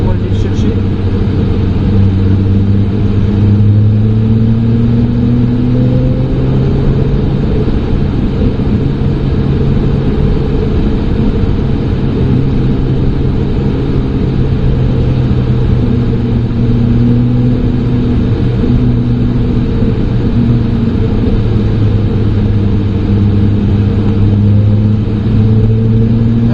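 Ferrari 296 GTB accelerating hard around the Trappes race circuit, a steady loud engine drone with rising and falling pitch sweeps as revs build, heard from inside the car throughout.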